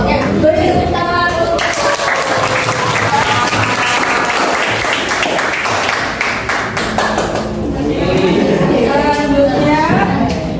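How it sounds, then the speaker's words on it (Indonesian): A room full of people claps steadily and loudly for about ten seconds, with voices calling out over the applause. "beri tepuk tangan."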